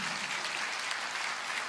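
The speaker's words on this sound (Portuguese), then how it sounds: "Pode aplaudir." Brief audience applause during a church sermon, a soft, even wash of clapping with no break across its short length.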